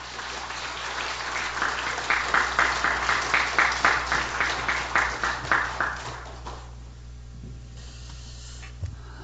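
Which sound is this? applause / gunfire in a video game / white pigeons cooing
applause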